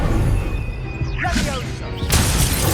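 A Confringo blasting spell cast in Hogwarts Legacy on PS5 erupts mid-duel as a dense, loud blast with a crackling burst that swells near the end, set against continuous game noise.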